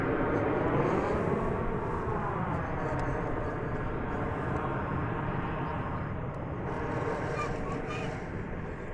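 An American Airlines Boeing 737-800 departing DFW Airport, bound for San Antonio, gives a sustained engine roar with a slowly shifting whine, steady and fairly near, with faint talk in the background.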